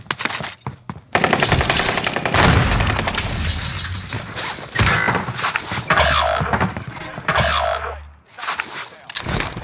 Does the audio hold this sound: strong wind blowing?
no